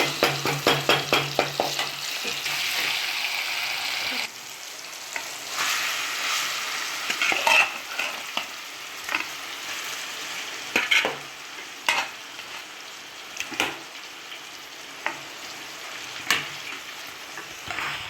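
Garlic paste fries and sizzles in a pan for a village-style chicken curry, with a steady hiss broken by repeated scraping knocks of a spoon stirring, a flurry of strokes early on and sparser ones later.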